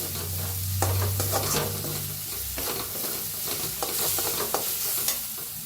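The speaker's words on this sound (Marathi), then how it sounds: "चांगला कांदा भाजलाय, त्याच्यात टाकूया हळद अर्धा चमचा, भाजून घेऊया हळदीला बी" Chopped onion with half a spoon of turmeric frying in a pan for bread pakora, a steady close sizzle with occasional scraping and stirring clatter from a spoon, no talking.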